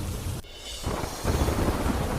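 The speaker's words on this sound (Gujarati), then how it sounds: "ધોધમાર વરસાદ ખાબકતા મુખ્ય માર્ગો પર ફરી વળ્યા વરસાદી પાણી" Heavy downpour with thunder in Khambhalia, Dwarka: loud, steady rain hiss under deep low rumbling, broken by a brief quieter gap before the roar of rain returns.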